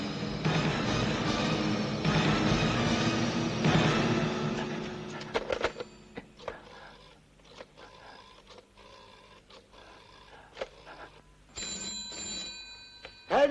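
Ringing telephone, a police station line being called, heard after a stretch of loud broadband noise; a few bright, repeated tonal bursts appear toward the end, faint at first and then clearer.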